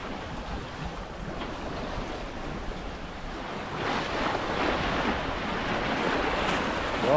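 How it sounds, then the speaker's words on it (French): Small sea swell washing against a sailboat on a coastal trip off Spain, steady surf hiss mixed with wind noise across the microphone, growing louder in the second half, with no talk. "la mer, bon, il y a une petite houle"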